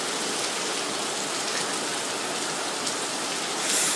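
Heavy rain pours steadily in South Gilbert in cool weather near palm trees, a dense and loud hiss of drops falling on surfaces without break, with no voices.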